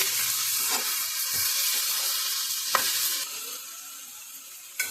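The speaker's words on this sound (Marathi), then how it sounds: "अर्धा चमचा मीठ घालून घेऊया आणि छान मिक्स करून घेऊया सर्वांना" Ivy gourd stir-fry being stirred with salt in a pan, a steady close sizzle with a few scraping clicks of the spoon against the pan, no voices.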